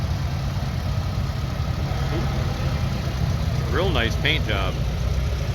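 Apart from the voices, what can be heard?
diesel tractor engine idling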